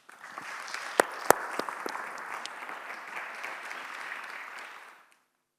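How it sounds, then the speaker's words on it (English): Audience applause at a tunnelling awards conference session: steady, fairly dense clapping lasting about five seconds, with a couple of sharp louder claps near the start, then cutting off abruptly. "Let's give him a round of applause."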